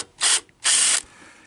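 Ratchet working the flywheel bolt on a 1980 Honda ATC 110, two sharp close bursts of rapid clicking, the second longer, then a faint trailing hiss.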